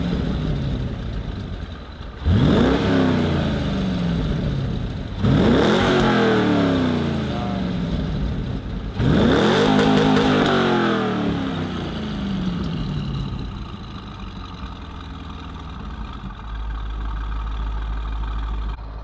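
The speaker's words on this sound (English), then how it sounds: "now we're going to do a Revs 2, 4, and then 6, and then he's going to rev it out for us" A stock-exhaust 2004 C5 Corvette revs three times in succession, each blip climbing sharply then falling back to a burbling idle, loud and close, followed by a steady idle and low rumble at the end.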